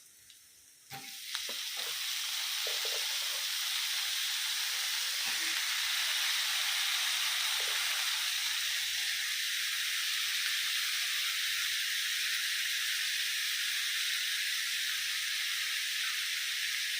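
Washed papaya hitting hot oil in a pan for mezhukkupuratty: after a brief clatter, loud steady sizzling and hissing starts and fills the rest of the clip, close and without talk.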